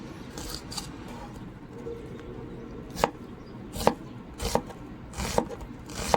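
Onions being chopped for a mixed salad, a knife tapping on a board in a quiet background, with sharp cuts landing more often and more crisply later, irregular and close.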